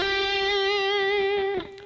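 Distorted electric guitar holds one sustained, harmonic-rich note close and loud for about a second and a half, then slides off with a quick pitch bend near the end, played alone with no talking.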